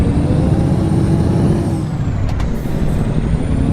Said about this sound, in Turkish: Aracı el frenini indireyim ben